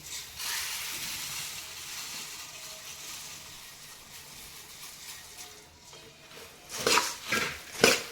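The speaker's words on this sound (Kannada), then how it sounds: "ಈಗ ನಾನು ಮಂಡಕ್ಕಿಯನ್ನು ಸುರಿತೀನಿ" Puffed rice (mandakki) pours into a pan of roasted peanuts, giving a soft, steady rustling hiss, followed by a few louder clattering scrapes of a utensil against the pan near the end, with no talking.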